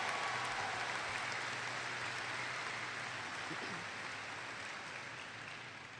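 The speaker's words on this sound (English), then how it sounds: "How about a special round of applause for Ashley, Courtney, and Iris," Crowd applause at a high school graduation ceremony, a dense wash of clapping that starts full and gradually fades over several seconds, with faint voices mixed in.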